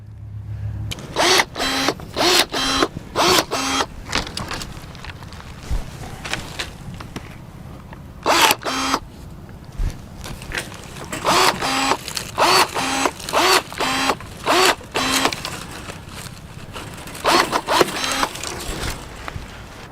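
DeWALT 20V Max cordless pruner cutting through a thick branch just over an inch across, loud repeated bursts of cutting and snapping close by, with short pauses between bursts and no talk.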